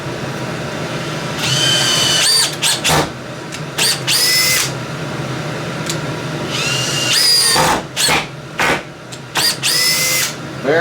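Cordless power drill on a repaired battery driving screws into wood, several loud whirring bursts rising in pitch as each screw bites, separated by short pauses, close and alone.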